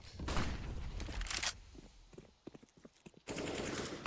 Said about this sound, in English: A nice shot from Martinez.